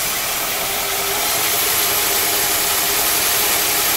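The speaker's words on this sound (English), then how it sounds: "The engine's been running for a while." A warmed-up 1956 Cadillac Sedan DeVille engine idles steadily, a continuous broad hiss and mid rumble heard up close with no change in pitch throughout.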